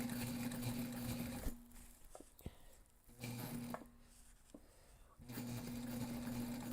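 A sewing machine runs in short bursts while sewing a backpack, its close, humming stitch sound starting and stopping with pauses, clicks and fabric handling in between.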